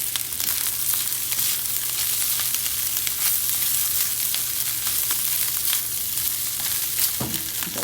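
Day-old rice fries in a hot pan for seafood rice, giving a steady close sizzle with scattered crackles and scraping stirs throughout and no talk.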